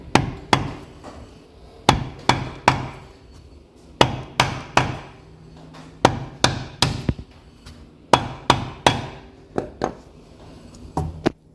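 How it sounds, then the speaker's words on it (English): Sharp blows from a rubber mallet or lead hammer strike a 72-spoke wire wheel spinner in quick bursts of two or three, each ringing briefly, repeating at a steady pace with short pauses between groups. "you can use a rubber mallet or a lead hammer"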